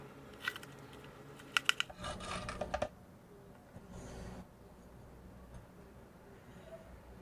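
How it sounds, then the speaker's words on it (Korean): A knife cuts through a crisp fried pork cutlet (tonkatsu) in a few short, crunchy bursts of cutting, close by, with quiet pauses between them and no talking. "튀겨놓은 돈가스를 먹기 좋은 크기로 이제 썰어서 얹어주시면 돼요"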